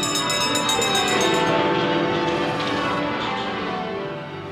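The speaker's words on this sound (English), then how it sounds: "We'll be welcoming the world with the sound of our bells." British church bells ringing together, a dense wash of overlapping clanging tones with long sustained resonance, loud and steady, fading slightly toward the end.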